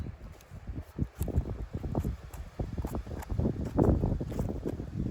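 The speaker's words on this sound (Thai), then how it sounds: "ลมมากเลยค่ะ" Strong wind in a pine forest on a high slope about eight hundred metres up rushes and thumps against the microphone in steady, loud gusts throughout, with no voices.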